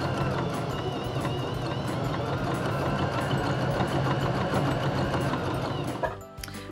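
A Baby Lock Joy sewing machine stitches a dense decorative satin stitch, a steady close mechanical whirr with rapid needle rhythm that runs continuously before stopping near the end.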